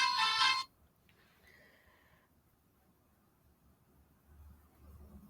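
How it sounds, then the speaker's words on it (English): A phone ringtone chirps loudly for about half a second at the start, cut off abruptly, followed by quiet room tone and a faint electronic warble. "I'm sorry about my phone ringing just now."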